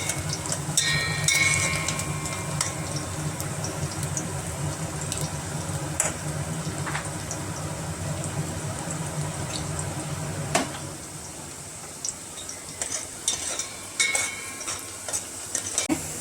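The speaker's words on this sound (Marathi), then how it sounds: "कांदा जरा ब्राऊन झाला ना आणि लसूण की जरा फोडणी मस्त बसते, छान वास येतो." Onion and garlic fry in hot oil as a tempering for a spicy crab curry, giving a steady close sizzle with occasional stirring clatter throughout.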